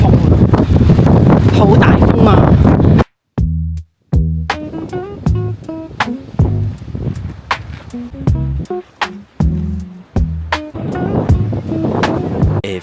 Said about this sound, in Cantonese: 好勁嗰種風，好大風啊！